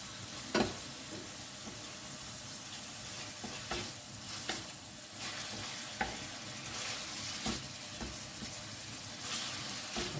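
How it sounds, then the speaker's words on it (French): Chicken pieces for a Thai green curry sizzle quietly in a pan, a steady soft frying hiss broken by occasional stirring scrapes and clicks. "Faut les faire dorer, faut les faire chauffer de chaque côté là"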